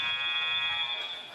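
A loud, steady electronic buzzer sounds at the end of a quarter in a high school girls' basketball game between Canton and Brownsboro, held continuously and slightly fading toward the end.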